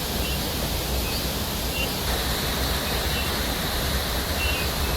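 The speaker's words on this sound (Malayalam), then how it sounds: "നല്ല വെള്ളച്ചാട്ടം പോലെ നന്നായിട്ട് വെള്ളം കുത്തിയൊലിച്ച് വരികയാണ്" Steady, loud broadband rush of water gushing from a broken pipe, like a waterfall or fast torrent, continuous and unbroken throughout with no voices.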